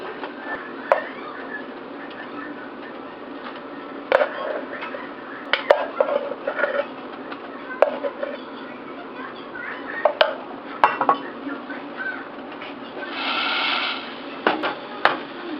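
A spoon scrapes and knocks against a pan while sticky rice is stirred into jackfruit biko until the liquid cooks off, with irregular clinks and thuds over a low steady background and no talk.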